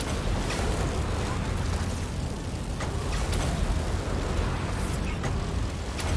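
Skaven weapons fire recklessly in a video game, a dense rumbling barrage of blasts and pops with sharp bursts scattered throughout, while players talk over the noise.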